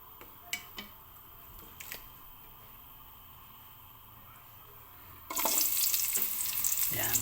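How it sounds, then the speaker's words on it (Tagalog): Onions dropped into hot oil in a pan: after a quiet stretch with a few light clinks, a loud sudden sizzle bursts in and keeps hissing steadily to the end, close up, with no talk. "gisa-gisa lang po tayo ng sibuyas"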